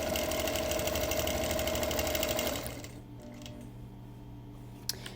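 A quilting machine stitching natural colored thread across a beach panel quilt, a steady loud mechanical whir and hum that drops to a quieter idle halfway through.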